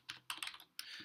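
Quick keystrokes on a computer keyboard as code is typed, a short burst of close, crisp clicks in an uneven rhythm over a quiet background.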